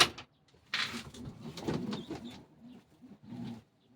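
Soft pigeon coos repeat in short bursts, close by, with some faint rustling and shuffling between calls.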